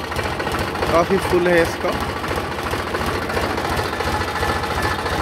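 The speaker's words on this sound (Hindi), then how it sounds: "आवाज भी बिल्कुल बढ़िया ट्रैक्टर की।" A 2005 Sonalika 35 DI tractor with about 11,000 hours of use runs its diesel engine at a steady idle, a loud, even low thumping throughout while someone speaks over it.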